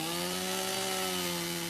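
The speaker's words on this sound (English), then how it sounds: "While we took a chainsaw to the trees that were holding the Toyota in place" A chainsaw runs steadily and loudly while cutting through trees that had trapped a stuck Toyota off-road, a continuous buzzing drone with no voices.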